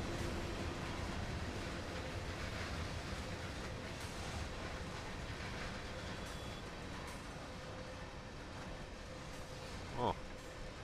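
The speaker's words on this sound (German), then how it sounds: "Da fährt der Regionalexpress aus." A regional express train departs in the Train Sim World video game with a steady low rolling rumble and rail noise throughout, plus a brief squeal or clank near the end.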